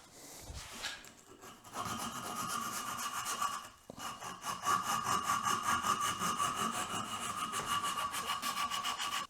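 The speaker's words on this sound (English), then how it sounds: "I'm going to sand that up on the inside too anyway" Steady hand sanding on the inside of a small handmade wooden piece in a woodworking shop, a rhythmic scratchy rubbing of abrasive on wood that runs close and continuous, with a brief pause partway through and no talking.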